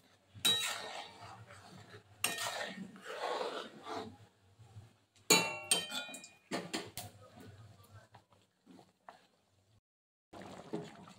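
Tomato chutney simmering in a pan is stirred now and then, giving soft scraping and light clinks of a spoon in short bursts separated by quiet gaps, close and low in level.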